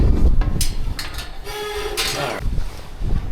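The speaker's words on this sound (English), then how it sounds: "If you find a hand tram, you gotta go on it. Plus, there's a hand tram in the middle of nowhere." Hand-pulled tram cable car crossing a river in the wilderness near Grewingk Glacier, heard as a steady rolling rumble with metallic squeaks and rattles close by, continuous throughout with no speech.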